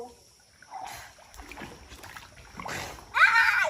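Water sloshes and splashes faintly as people bathe and swim in a pond, ending in a louder, bright splash. Voices talk nearby.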